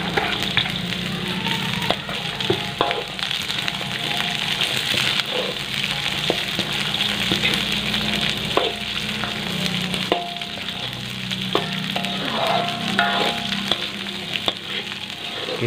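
Long beans are stir-fried in a pan with a continuous sizzle, while occasional clicks and scrapes of a spatula mark the stirring across the whole stretch.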